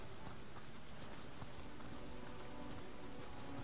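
Rain pours steadily in the fantasy role-playing game Divinity: Original Sin, a dense, even hiss of falling drops without breaks and no voices over it.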